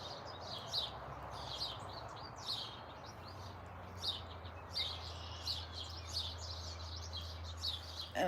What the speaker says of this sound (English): Are you just listening to my pretty birds?